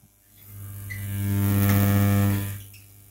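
A high-frequency vacuum tube Tesla coil built around a GU81M tube, running at full variac and throwing an electric flame from its electrode, gives a loud steady buzzing hum with strong harmonics that swells up and fades away, alone.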